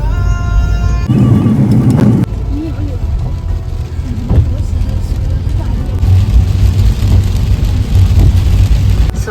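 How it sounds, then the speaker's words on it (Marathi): Heavy monsoon rain drums hard and continuously on a moving car, forming a loud, dense hiss over the low engine and road rumble, with voices talking inside the car. "एवढा धो पाऊस येत आहे"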